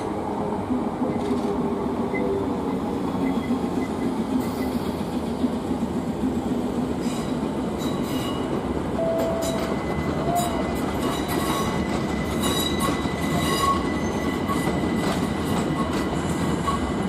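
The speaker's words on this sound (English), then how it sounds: "Service now arriving on platform 8 is for Gidea Park." A London train arrives at Stratford station platform 8 with a steady rumble and clattering wheels, faint squeals and clanks rising over the continuous noise as it slows.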